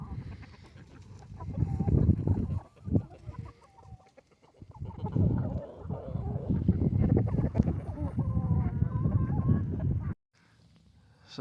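Roosters and hens clucking and crowing close by in a backyard with a garden, busy overlapping calls running almost without a break.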